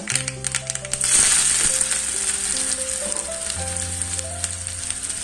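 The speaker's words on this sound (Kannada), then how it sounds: "ಎಣ್ಣೆ ಕಾಯ್ದ ಮೇಲೆ ಸಾಸಿವೆನ ಹಾಕ್ಕೊಳ್ತೀನಿ" Mustard seeds crackle and sizzle in hot oil, a steady close frying hiss with scattered popping and a faint low hum underneath.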